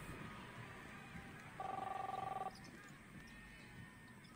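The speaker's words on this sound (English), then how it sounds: "Chris, answer the phone, please." A telephone rings in the video game The Awesome Adventures of Captain Spirit, one steady burst of trilling electronic ring lasting about a second, standing out clearly over a low, constant room ambience.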